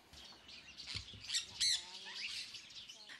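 Exotic birds in a Bangkok bird cafe squawk and chirp in a busy indoor chorus, with one sharp, loud shriek standing out among shorter calls and faint patter.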